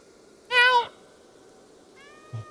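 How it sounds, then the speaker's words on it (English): A cat in the video game Stray gives a single clear, fairly loud meow, followed after a pause by a softer, thinner second meow and a faint thump, with near silence around them. "Press B to meow!"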